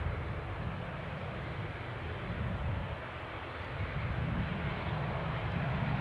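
A Jet2 Boeing 737-800 airliner at Newcastle airport makes a steady, broadband engine roar from a distance, continuous and even with no talking.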